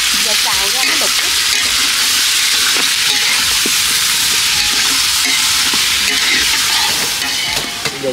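Duck breast meat stir-frying in a pan, a loud, continuous sizzle with steady hiss and intermittent clinks and scrapes of stirring throughout.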